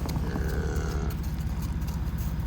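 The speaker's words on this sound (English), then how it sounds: "There's Pop-Tart, big red cow with her calf on the straw." A big red cow stands with her young calf on straw bedding in a farm pen, giving a low, drawn-out moo-like call near the start over a steady background rumble.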